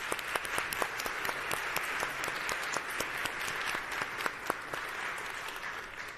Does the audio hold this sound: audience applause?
yes